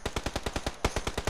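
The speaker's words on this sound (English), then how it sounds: "I hit him with the pistol!" Rapid gunfire from an R45 pistol in a shooter video game: nine or so sharp, loud shots in a fast, even rhythm, close and alone with no voices.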